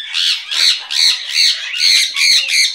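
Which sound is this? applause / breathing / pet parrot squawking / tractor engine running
pet parrot squawking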